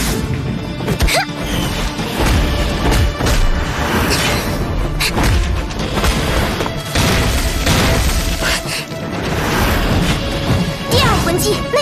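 The Phoenix Fire Line soul-skill attack in Soul Land animation, a loud barrage of repeated crashing impacts and booms with brief pauses between bursts.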